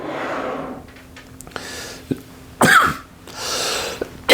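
A few harsh coughs and throat-clearing sounds, close by, separated by short breaths and pauses.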